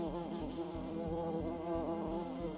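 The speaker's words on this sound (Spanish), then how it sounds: "no tienen aguijón y solo pueden zumbar agresivamente" Male honeybee drones, which have no sting, give a continuous, intense buzz close by. The drone holds steady and alone for the whole stretch.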